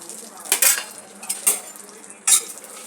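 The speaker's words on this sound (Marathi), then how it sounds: "एक चमचा तूप घेतला आहे त्यामध्ये आपल्याला हे ड्रायफ्रूट भाजून घ्यायचे" A spoon scrapes and stirs dry fruits roasting in a spoonful of ghee in a pan over a low flame, producing three loud metallic scraping bursts separated by quieter moments.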